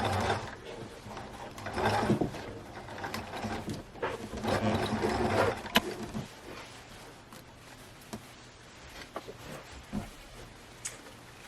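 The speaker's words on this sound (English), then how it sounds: "now I've switched back to the sewing machine" A sewing machine stitches close to the end of a zipper on new campervan bedding, a near, steady mechanical whirring with ticking needle strokes in bursts, pausing and slowing toward the end.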